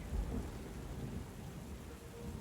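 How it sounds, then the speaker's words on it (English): Thunder rumbles over steady rain-like noise and pounding surf on the sodden sand of a beach at St. Brandon's Cove, a video game ambience, continuous and fairly loud with no voices. "Thunder growling, waves pounding"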